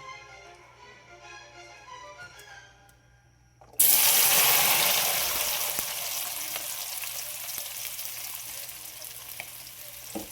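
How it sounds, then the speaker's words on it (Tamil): Okra hits hot oil with a sudden loud burst of sizzling, settling into a steady crackling fry that continues to the end; quieter kitchen sounds before. "இப்போது வெண்டைக்காய் நம்ம ஆயிலில் ஃப்ரை பண்ணி எடுத்துக்கிட்டோம்."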